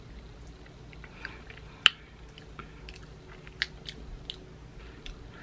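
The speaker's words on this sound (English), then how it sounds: "let me taste the frosting, the filling." Someone eats a Hostess iced pumpkin cupcake with vanilla frosting and filling; soft close chewing and squishy bites with a few sharper crunchy clicks over quiet background, no talking.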